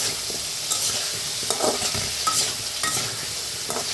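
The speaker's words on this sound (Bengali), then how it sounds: "আগে এটা ভেজে নেব" Ground onion paste fries in a pan, a continuous close sizzle broken by regular scraping and stirring strokes, with no voices.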